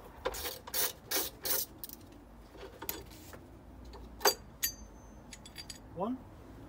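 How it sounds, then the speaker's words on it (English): Bolts being undone from the front anti-roll bar brackets of a car, giving sharp metallic ratchet clicks and clinks in short bursts, close up, with a brief squeaky turn near the end. "We're going to take out the last two bolts holding on the anti-roll bar,"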